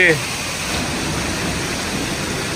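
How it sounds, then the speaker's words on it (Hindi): Heavy rain pours down in a thunderstorm with hail falling, a dense, constant hiss of precipitation that holds steady throughout. "इतने तेज ओले गिर रहे इस वक्त"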